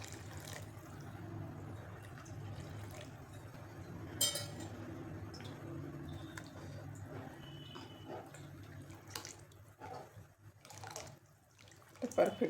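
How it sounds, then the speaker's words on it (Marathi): Hot water is poured into lentil curry in a cooking pot, a soft trickling splash with clinks of utensils under someone talking. "तर हे अजून गरम पाणी हे घालायचं."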